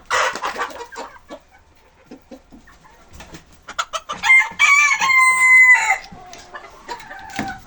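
Chickens cluck in short bursts and a rooster then lets out a long, loud crow close by, followed by more scattered clucking in a farmyard.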